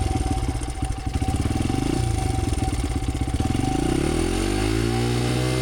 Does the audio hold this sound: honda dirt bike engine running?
yes